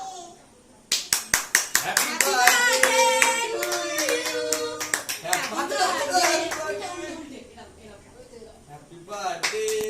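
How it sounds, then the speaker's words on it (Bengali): Family members clap together at a home birthday celebration, a burst of sharp rhythmic handclaps starting abruptly and continuing under lively overlapping chatter, with a voice among the talkers. "তুমি এরকম সবাই হাততালি দেবে"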